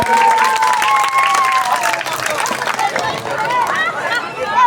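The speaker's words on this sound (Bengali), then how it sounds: "একটু সকলে হাততালি দেবেন।" Audience applause after Jadugar PK Samrat's magic show at an autumn community gathering: dense, steady clapping fills the whole stretch, with a thin whistling tone and crowd murmur riding over it.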